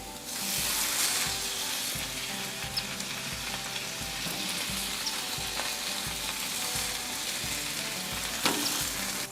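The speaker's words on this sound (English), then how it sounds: "We are also going to put the bacon on." Bacon sizzles loudly and continuously on a hot griddle, a dense crackling hiss with a faint rhythmic scrape of a spatula beneath it.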